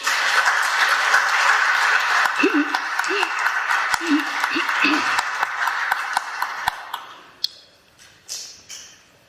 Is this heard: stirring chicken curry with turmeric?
no